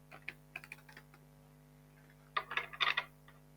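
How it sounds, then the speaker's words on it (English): Tarot cards being shuffled for a Celtic cross reading, quick papery riffles and taps in two short bursts with a quiet pause between, close up over a faint steady hum, no talking. "I'm shuffling the cards"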